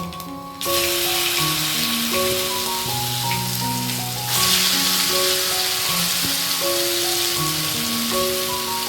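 Spice paste hits hot mustard oil with nigella seeds, setting off a loud, steady sizzle that begins abruptly and runs throughout, beneath melodic background music.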